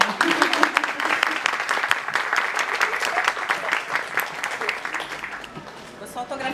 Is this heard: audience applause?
yes